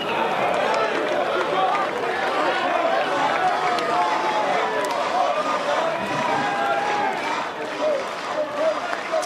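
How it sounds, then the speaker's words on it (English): A large crowd fills Boshamer Stadium in Chapel Hill during a college baseball game between West Virginia and North Carolina, with a constant dense murmur of chatter and cheering and scattered claps throughout. "It's been a huge crowd in Chapel Hill, just like it was last weekend."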